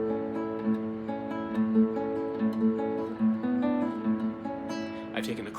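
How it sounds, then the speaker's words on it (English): A single chord broken into an arpeggio, its notes sounding one after another in a gentle, repeating pattern, soft and moderately close, with a brief extra noise at the very end. "I've taken a chord and played it as an arpeggio."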